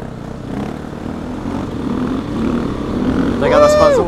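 A motorcycle engine revs up steadily during a wheelie, building in loudness toward the end, with a rising, whining pitch sweep near the close.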